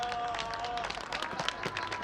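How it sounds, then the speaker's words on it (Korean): An audience claps at an environmental group's meeting, a short burst of scattered, moderately loud applause from many hands. "박수 한번 쳐주세요."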